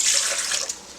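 Water pours into a stand mixer bowl for brioche dough, a brief bright hissing gush that tapers off within about a second.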